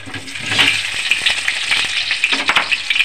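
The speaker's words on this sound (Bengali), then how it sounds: "এবার ডিম ভাজা তেলের মধ্যে আলুটাকেও আমি ওরকমভাবে ভেজে নেব" Potato pieces fry in hot oil left over from frying eggs, a loud, dense sizzle with crackling spatters and brief stirring scrapes throughout.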